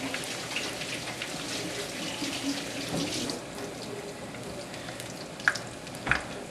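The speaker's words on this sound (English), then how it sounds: "Let them fry for a couple minutes" Battered lemon chicken pieces fry in hot oil at about 360 degrees, a steady bubbling, watery crackle with a couple of sharper pops near the end.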